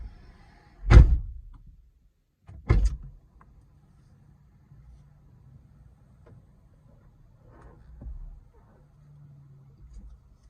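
A vertical Lambo-style door on a 2018 Camaro swings open with two sharp, close mechanical clunks a couple of seconds apart, followed by faint, quiet mechanism sounds in an otherwise hushed car interior.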